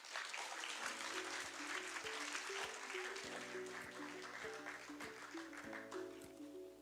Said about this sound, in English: let's give a big round of applause to Honorable Angelita Helen Tan